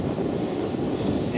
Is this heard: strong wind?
yes